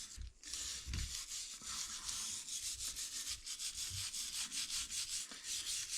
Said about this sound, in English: I'm going to scrub it a little bit